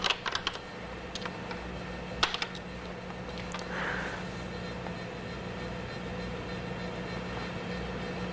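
Scattered keystrokes tapped on a Color Computer keyboard, a few faint clicks in a small cluster early on, then a quiet, steady room hum with little else.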